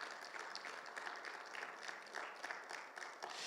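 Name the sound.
congregation applause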